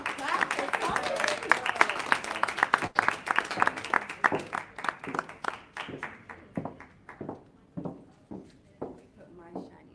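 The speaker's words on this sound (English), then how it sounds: "Can I get some claps or something?" A room of reporters at a wrestling media scrum breaks into applause, dense clapping at first that thins out into a few scattered, slowing claps, fairly close with some murmuring voices underneath.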